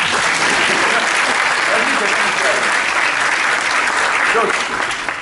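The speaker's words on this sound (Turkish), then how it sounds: "Alkışlayın lan." Loud, dense applause from a seminar audience on vision, youth and politics, sustained evenly throughout, with voices talking over the clapping.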